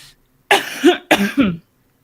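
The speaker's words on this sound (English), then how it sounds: "the poor woman is coughing silently right now" A woman coughs twice in quick, close succession, with short pauses of silence around the coughs.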